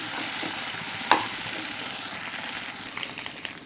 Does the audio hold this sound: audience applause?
no